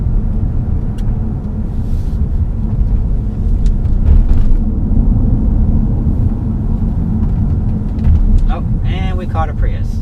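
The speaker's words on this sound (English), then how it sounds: "Ride seems pretty good, even on these bumpier, kind of busy, kind of cornery type roads here." Cabin of a 2013 Ford C-Max Energi hybrid on bumpy, busy, winding roads: a steady low rumble of road and tire noise throughout, with faint bumps and a brief higher whine near the end.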